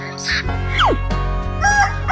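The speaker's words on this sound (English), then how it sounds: "Chicken." A cartoon rooster crows among other animal sounds in a children's animal learning song, the call sweeping downward over a busy musical backing with bright tones.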